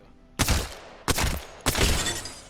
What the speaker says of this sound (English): Let's see what the Alternator can do.